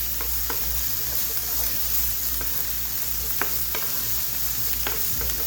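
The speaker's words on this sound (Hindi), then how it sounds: "प्याज को हमने सिर्फ हल्का सौते करना है" Onion sautéing lightly in oil for chana chaat gives a steady, soft sizzle throughout, with a few faint utensil taps and stirring scrapes on top. No voices are heard.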